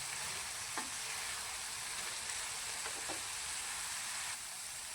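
Capsicum (shimla mirch) cooks in a pan over a low gas flame, giving a soft, continuous sizzle and a few faint stirring scrapes.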